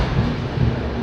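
A New Delhi–Malda Town Express runs between Lucknow and Rae Bareli, heard from inside the carriage as a loud steady low rumble with rolling wheel noise and no voices.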